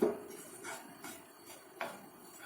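A spoon scrapes and knocks against a pan while khoa and grated carrots are stirred together for gajar halwa, four or five soft metallic clinks spaced through a quiet stretch.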